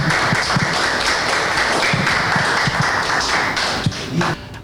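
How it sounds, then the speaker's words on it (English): A crowd at a talk event applauds to welcome the speaker Simba, steady loud clapping filling the room for several seconds, with a few sharper claps standing out and a slight fade near the end. "Please, a warm round of applause to welcome Simba."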